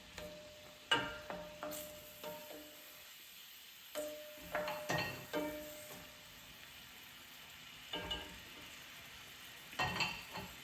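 Curry leaves, onions and chilies frying in a pot for a South African pumpkin curry, with soft steady sizzling and repeated clinks of stirring spread across the clip.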